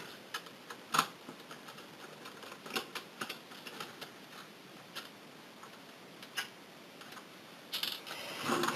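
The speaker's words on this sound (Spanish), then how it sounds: "coger el destornillador de estrella, quitar este tornillo de color negro y otro en el lado contrario" A Phillips screwdriver works screws out of a Nintendo Wii U console, producing quiet, irregular small clicks, ticks and plastic taps up close, with a scraping rattle near the end.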